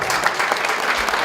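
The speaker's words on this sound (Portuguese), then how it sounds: "Só pedir uma salva de palmas, então." Applause from an audience at a strategic planning event for third-sector organisations, a brief, loud burst of many hands clapping at once, dense and even with no talk over it.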